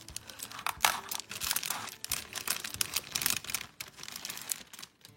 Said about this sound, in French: Je vais sortir du papier pour pas que ça fasse